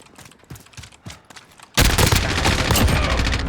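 First-person shooter gunfire: a few separate sharp shots, then a sudden sustained burst of rapid automatic fire that stays loud and dense to the end.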